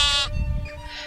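A single sheep lets out a short, wavering bleat, clear and close, followed by a quieter second call on a calm background.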